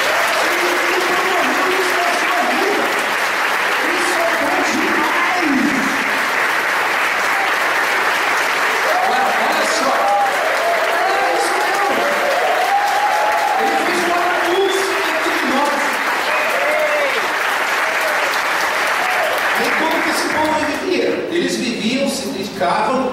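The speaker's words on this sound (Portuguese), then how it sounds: "Dá uma salva de palmas para Jesus." Sustained applause from a church congregation during a worship service, a dense, steady wash of clapping filling the room for over twenty seconds, with voices and cheers mixed in before it thins toward the end.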